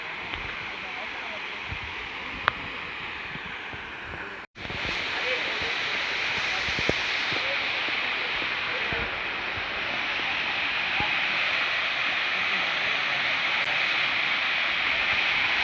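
Steady, continuous rush of a waterfall near Araku valley in the hills, heard up close as a broad constant roar that stays level throughout, with a brief dropout partway.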